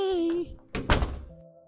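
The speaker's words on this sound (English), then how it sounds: "Damn door is so loud." A heavy door thuds shut in the horror game The Crooked Man, a loud close knock following a tonal game sound and trailing into a quiet background tone.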